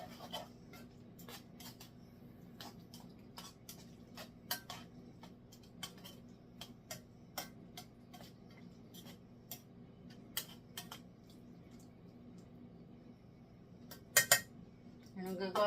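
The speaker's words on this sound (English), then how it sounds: "Mix it all together." A spoon clinks and scrapes against a pan as cooked peas are stirred into one-pan chicken thighs and vegetables, with irregular metallic taps throughout and a louder clatter near the end.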